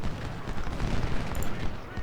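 Musket volleys crackle and rumble in the Civil War strategy game Ultimate General: Civil War, a dense, continuous spread of gunfire without gaps.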